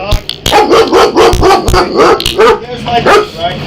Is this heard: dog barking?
yes